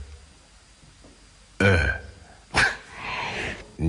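A voice imitates a burp with a couple of loud, close, guttural belch-like bursts, heard alone without ordinary speech.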